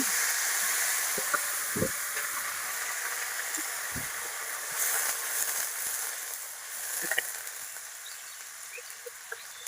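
Ginger-cumin paste with a splash of water hisses and sizzles steadily in a hot pan, a soft continuous fry with a few small clinks and taps near the start and middle.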